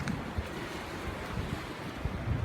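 Ocean waves wash against the rocky shore at Yanui Beach, Phuket, on the Andaman Sea, making a steady close surf rumble mixed with light wind noise.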